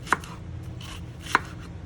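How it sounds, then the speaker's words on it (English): Two sharp knife chops on a cutting board cutting an onion, about a second apart, close and fairly crisp, with no talking. "I'm gonna go ahead and cut my onion up."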